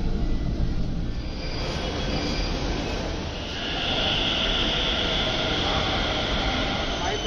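A Delhi metro train running, its steady broadband rumble and rail roar filling the carriage continuously, with a high whine rising in the second half.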